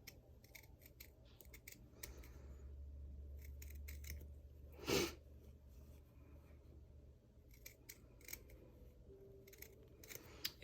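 Scissors cutting Pellon stabilizer for a sewing kit: quiet, close snips and paper-like rustles come in scattered clusters, with one louder, longer cut near the middle, all under a low steady hum.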